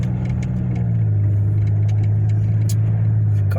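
1995 Buick Regal GS pulling away slowly from a stop, heard from inside as a steady low engine drone that settles and holds, with faint clicks above it.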